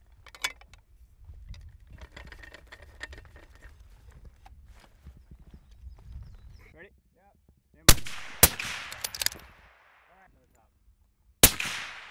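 A precision sniper rifle fires three sharp, loud shots outdoors, the first two close together around the middle and a third after a pause, each with a short ringing decay, following a stretch of quiet handling noise.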